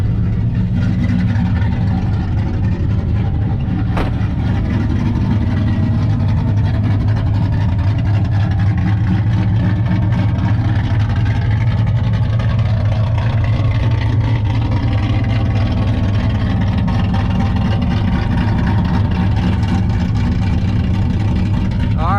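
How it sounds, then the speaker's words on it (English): A cammed LT1 Trans Am idles with its exhaust cutouts open, dumping right under the car, giving a loud, steady low rumble that holds for the whole stretch with little change. "this is with the cutouts open. So this is dumping right outside, right under the car right now."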